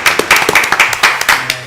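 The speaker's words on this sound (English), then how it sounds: "let's get a round of applause for everybody" A small group gives a brief round of applause at a sneaker event, a few close, loud, irregular hand claps in a quick scattered burst.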